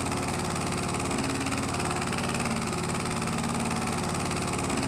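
An old farm vehicle's engine runs steadily just after starting, a continuous rumbling idle with a rhythmic low throb, heard alone and fairly close.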